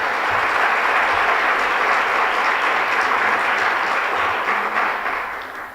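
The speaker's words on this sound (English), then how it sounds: "So to all those partners that are here, mentioned and not mentioned, a big round of applause." An audience at a school district address breaks into a dense, steady round of applause that holds loudly for several seconds before starting to fade at the end.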